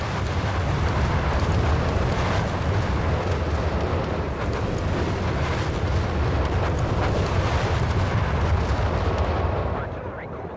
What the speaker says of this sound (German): dieser Bombenteppich